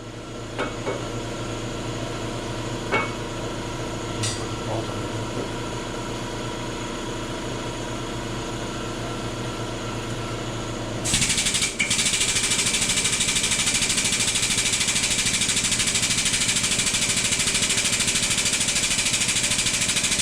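A hydraulic press pressing a drive shaft yoke in a workshop: a steady mechanical hum with a few light clicks and taps, then at about eleven seconds a louder, hissing broadband whine of the press working takes over and holds steady.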